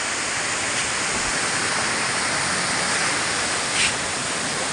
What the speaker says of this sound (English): The adventure of Gembleng Waterfall.